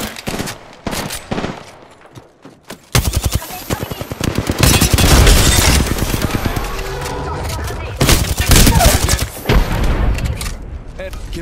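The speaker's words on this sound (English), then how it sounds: "Opening fire." Apex Legends video game gunfire in heavy bursts, rapid automatic fire and loud booms crowding most of the clip, starting after a few seconds of quieter game sounds, with a voice speaking over parts of it.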